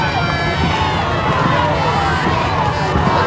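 Crowd cheers and shouts at the finish of a dragon boat race at a festival in Victoria, a steady dense roar of many voices from spectators along the water, continuous and loud throughout.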